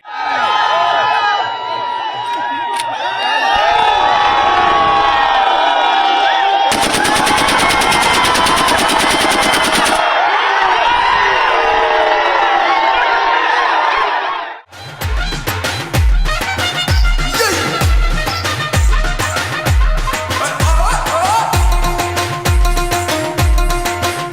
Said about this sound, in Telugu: సమ్మక్క తల్లి రాకకు సూచికగా జిల్లా ఎస్పీతో పాటు పోలీసులు గాలిలో కాల్పులు జరిపారు.